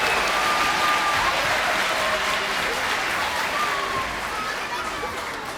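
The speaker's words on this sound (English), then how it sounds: "How about one more round of applause for the 4th grade orchestra?" An elementary school spring concert audience applauds the 4th grade orchestra, with dense sustained clapping filling the hall and slowly tapering off.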